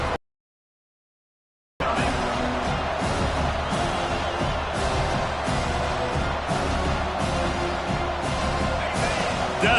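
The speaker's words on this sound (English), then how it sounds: "Decibels rising as the crowd gets behind this defense on third down." Football stadium crowd roaring loudly and steadily on a third-down defensive stand, a dense wash of cheering that swells after a brief silent gap at the start.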